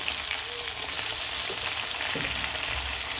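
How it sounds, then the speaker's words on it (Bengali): Rui fish fries in hot oil, a dense, steady sizzle and crackle close at hand that fills the whole moment without pause, with a few faint clinks from the pan. "গরম তেলে কিন্তু মাছটা খুব সুন্দরভাবে দিয়ে দিব"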